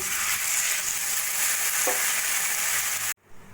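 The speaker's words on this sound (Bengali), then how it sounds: "আদা রাঁধুনি বাটা দিয়ে দু তিন মিনিট মতো কষিয়ে নিয়েছি এবার দিয়ে দেবো আমি পরিমাণ মতো জল" Water is poured into spices frying with ginger and radhuni paste, the steady loud sizzle and hiss continuing before cutting off abruptly near the end.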